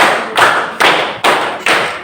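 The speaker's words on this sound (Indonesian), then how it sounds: "Tepuk 1, tepuk 2, tepuk 3, tepuk 4" A class claps together in a rhythmic ice-breaker game, four sharp, evenly spaced group claps ringing out loud and close with no talking.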